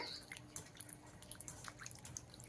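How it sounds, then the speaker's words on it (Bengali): Soybean chunks being rinsed in cold water, with soft irregular drips and small splashes close by, quiet and without talk. "সোয়াবিনটাকে ঠান্ডা জলে দিয়ে ভালো করে ধুয়ে নেব"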